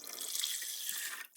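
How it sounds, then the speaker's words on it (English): Tap water runs steadily into a 10-liter IKEA pot being filled for eco dyeing, a continuous bright splashing rush that stops abruptly near the end, with no talking. "and then I'll add the water"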